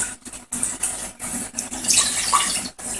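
Water is poured into a dough mixture with lard for monjàvena, a sweet pastry from Xàtiva, making a close, uneven gurgling splash in short bursts with brief gaps and no voices.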